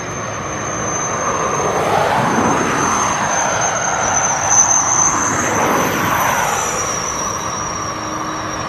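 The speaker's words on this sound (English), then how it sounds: "that's his taxiing round towards us" A KLM airliner taxiing at East Midlands Airport, its jet engines producing a loud, steady whine and roar that swells and shifts as it rolls past nearby, with no talk.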